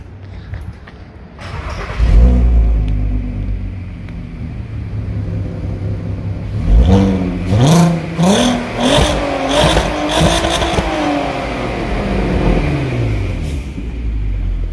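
Volkswagen Golf 5 R32 engine revved hard several times after idling, loud and close, with rising and falling blips in a burst of repeated throttle stabs.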